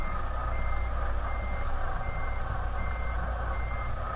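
Truck backing up between two parked trailers, its reversing alarm beeping steadily and evenly over a constant low diesel idle, with no voices.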